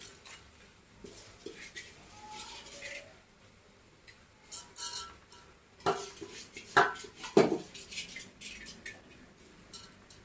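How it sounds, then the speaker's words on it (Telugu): Basmati rice being gently stirred and fried in a pan for paneer matar biryani, with soft scraping and clinks of a utensil against the pan, quiet at first and growing into a few sharper knocks near the end. "ఈ బాస్మతి రైస్ మొత్తం వేసుకున్నాక నిదానంగా కలుపుకుంటూ వేయించుకోవాలండి"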